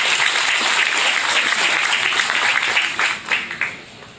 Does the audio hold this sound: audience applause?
yes